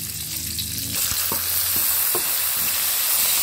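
Water spinach being stir-fried in a pan, a loud continuous sizzle that swells after the first second, with a few sharp spatula scrapes and clinks, close up and without talk.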